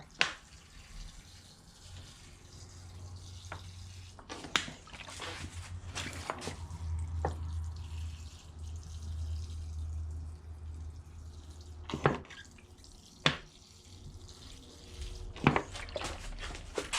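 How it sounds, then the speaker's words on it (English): Water poured through a repotted serissa or Japanese holly bonsai pot drains with a low steady trickle, punctuated by scattered sharp drips and small knocks, close and fairly quiet. "We'll just water it through, which will force even more soil and particles into those roots."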